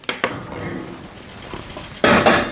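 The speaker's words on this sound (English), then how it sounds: "Let's get that Dutch oven out of the oven right now and start baking." A heavy Dutch oven lifted from a hot oven, with metallic clanks and knocks of the pot and rack, ending in a louder burst of scraping clatter close by.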